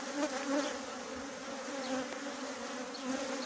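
Honey bees buzz steadily around an opened beehive during an inspection, a dense continuous hum with a few individual bees drifting nearer and away, with no talk over it.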